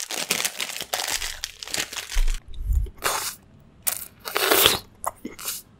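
Lollipop ASMR made close to a new microphone: wet, crinkly mouth and candy sounds come in short bursts separated by brief pauses, loud and intimate, with a low thump in the middle.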